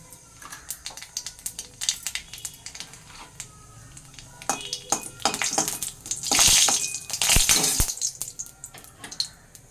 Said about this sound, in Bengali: তেলটা আমার গরম হয়ে গেছে একটা শুকনো লঙ্কা এতে ফোড়ন দিয়ে দিলাম আর দিয়ে দিচ্ছি অল্প কালো জিরে